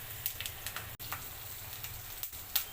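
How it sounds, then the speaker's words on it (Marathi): Turmeric, dal and roasted peanuts sauté in hot oil with a soft, steady sizzle, punctuated by a few sharp clicks of stirring against the pan. "अशी थोडी हळदी पण परतून घ्यायची"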